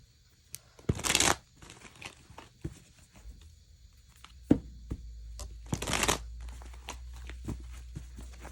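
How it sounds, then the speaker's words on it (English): Two short bursts of tarot card riffling, separated by scattered soft taps, handling noises and faint rustles, close and fairly quiet. "I'm gonna give this a quick little shuffle"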